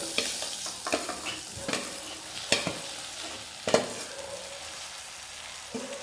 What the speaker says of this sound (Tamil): அடுத்து இந்த வாழைக்காயையும் போடுங்க.